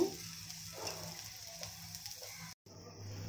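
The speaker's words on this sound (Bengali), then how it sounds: "তেলের মধ্যে এখন আমি কিছু পেঁয়াজ কুচি দিয়ে দিব।" Chopped onions sizzle in hot oil in a pan, being fried until browned for a prawn curry: a steady, close frying hiss with faint stirring and one brief dropout near the end, no voices.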